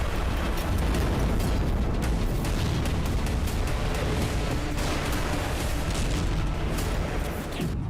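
Explosions in Sevastopol, Crimea make a dense, unbroken roar of booms and rumbling that stays loud and steady from start to end, with no voices.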